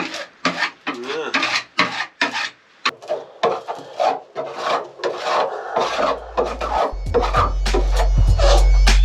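Boat bulkheads being ground and sanded during a sailing boat refit, with a harsh, rhythmic rasping of repeated close strokes, followed by a steady low motor hum building toward the end.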